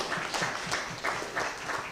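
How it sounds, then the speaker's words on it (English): Audience at an event breaking into applause, a dense continuous wash of many hands clapping at moderate distance, with a few louder swells and no other sounds. "So really big round of applause also to all of you."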